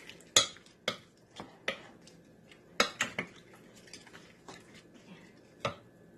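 A metal spoon scrapes and clinks against a pan while garlic butter shrimp are stirred, about a dozen sharp knocks at an irregular pace over a quiet background hiss.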